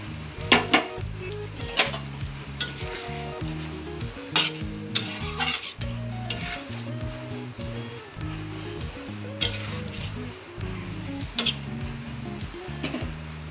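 Spice-rinse water poured into katla fish masala frying in a pan for steamed fish, heard as a continuous bubbling sizzle with repeated spoon clanks and scrapes against the pan.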